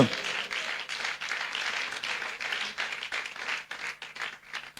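A church congregation at a Sunday Easter service breaks into sustained applause, a dense, steady wash of clapping from many hands in a large room that carries on for several seconds without talk.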